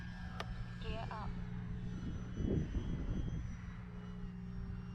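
E-Flite T-28 1.2m electric RC model plane taking off on its maiden flight, a steady motor hum with a brief swell of rumbling wind and ground roll midway, moderately distant throughout.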